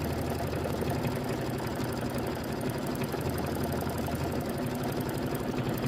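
An embroidery machine runs steadily while stitching the background quilting on a Kimberbell mini quilt lemonade block, a fast, even mechanical whir with a rapid repetitive needle rhythm, close and continuous throughout.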